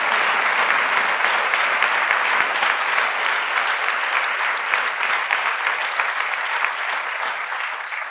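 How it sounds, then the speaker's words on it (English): Guests at a UNESCO reception hosted by the First Lady give a round of applause. Sustained dense clapping from a sizeable crowd holds steady and loud throughout, fading slightly at the close. "Please give her a round of applause for her tireless dedication to education."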